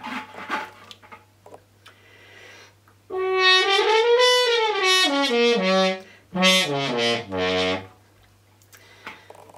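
A French horn played with a stopping mute sounds a buzzy, nasal line of sustained notes: one long, bending phrase, then a short gap and a second, lower-falling phrase. The notes are clear and close against a faint steady hum.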